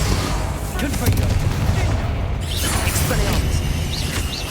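Spell combat in the Hogwarts Legacy video game sounds with the Confringo fire spell: a dense, loud wash of blasts, crackles and whooshing impacts packed close together, with game effects layered continuously throughout.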